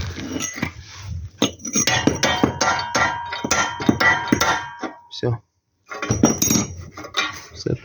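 Metal washers, a spring washer and a nut clink and clatter repeatedly during assembly of a homemade vibrating plate, sharp bright taps close by, with a brief silent gap.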